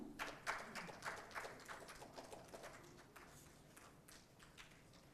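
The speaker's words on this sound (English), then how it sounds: "A round of applause, ladies and gentlemen." Audience applause at an awards ceremony in a hall, a steady patter of many hands clapping that rises at the start and then continues evenly, with a few louder individual claps standing out.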